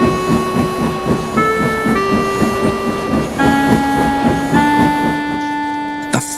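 Henry the steam engine setting off for the big station, a rhythmic chuffing of pistons under sustained whistle tones that change pitch as it moves, with a sharp hiss of steam near the end.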